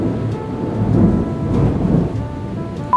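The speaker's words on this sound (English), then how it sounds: "It's thundering outside. Can you hear it? It's so loud." Thunder rolls outside during a rainstorm, a loud, drawn-out rumble swelling and fading over steady rain for about three seconds, with no voices.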